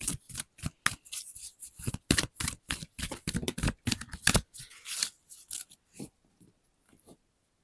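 Tarot cards shuffled by hand at close range, a rapid run of crisp riffling flicks and slaps that slows and thins into a few scattered taps before going quiet.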